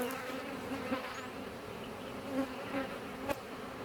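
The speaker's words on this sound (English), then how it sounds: "there's all these bees" Honey bees hum steadily around an opened hive during a frame inspection, a close, continuous buzz with individual bees swelling louder as they pass near.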